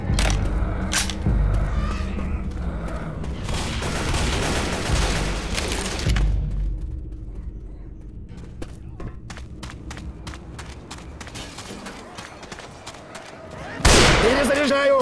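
Gunfire in Left 4 Dead 2 comes in dense, rapid volleys for the first several seconds, thins to scattered shots, then a loud blast near the end, with game voices calling out over it.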